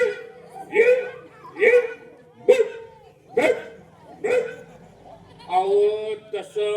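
A storyteller vocally imitates a small dog's yappy barking, several sharp high yips in an even rhythm followed by quicker whiny yelps, delivered close and clear before an audience.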